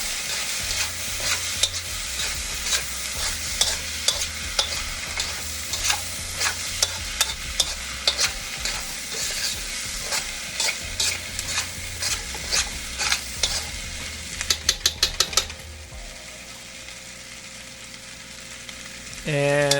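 A spatula scrapes and stirs chicken fried rice with soy sauce in a hot pan, rhythmic scraping strokes over a steady sizzle, close and loud, ending with a quieter pause.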